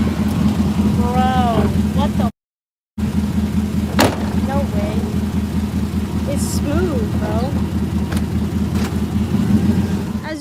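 A worn Chevrolet Silverado pickup with transmission trouble idles and drives with a steady low engine rumble throughout, a brief dropout partway, while people talk over it.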